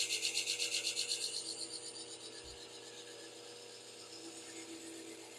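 A drill press sharpening system grinds a damaged plane blade, giving a close rhythmic ratcheting scrape that pulses quickly at first, then settles into a steadier, softer grinding rasp.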